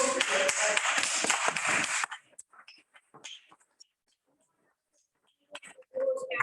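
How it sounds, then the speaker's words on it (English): Council meeting attendees clapping together in a meeting room, a short burst of group applause lasting about two seconds and then stopping abruptly, followed by near silence with a few faint sounds. "I thought you were clapping because you thought I came to the end of my report."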